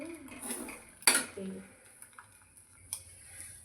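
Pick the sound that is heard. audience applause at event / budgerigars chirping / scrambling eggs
scrambling eggs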